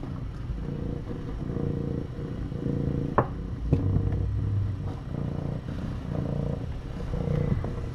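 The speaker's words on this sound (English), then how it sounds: "That's their mama purring. She purrs all the time." A mother cat's low, steady rumbling purr runs continuously throughout, close and fairly loud, with a couple of brief clicks or bumps partway through.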